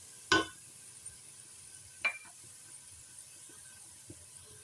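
Potatoes going into a pan of golden frying onions, with one sharp clatter and then a second as they are stirred, followed by faint scraping and quiet sizzling.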